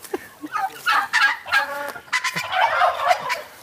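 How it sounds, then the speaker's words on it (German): Turkey hens on a small farm in rural Mecklenburg gobble and cluck loudly and close by, a continuous stretch of overlapping warbling calls with no talk. "Die ersten Hennen beschweren sich schon."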